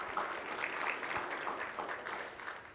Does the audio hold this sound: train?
no